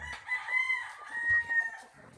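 Four-month-old native chickens cluck nearby while a rooster lets out a drawn-out crow, with shorter calls and clucks rising and falling around it.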